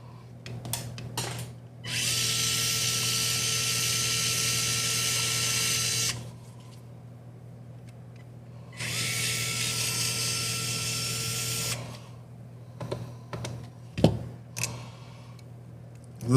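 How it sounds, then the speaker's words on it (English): A power tool backs screws out of the plate on a TRX-4M RC truck, giving two sustained whining runs of about four seconds each, close and loud, separated by quiet handling clicks and taps. "So we're gonna take the screws off the plate."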